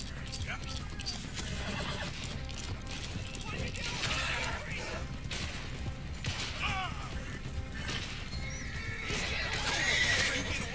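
A horse neighs and whinnies in the Red Dead Redemption 2 video game, loud against dense game noise with hoof clip-clops and creaking, while a voice talks over it throughout.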